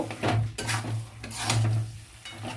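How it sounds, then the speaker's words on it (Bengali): Katla fish head murighonto is stirred in a cooking pot, giving a few close, uneven bursts of scraping and clanking from the spoon against the metal, with a faint sizzle between strokes. "এবার একটু নেড়ে চেড়ে নেব"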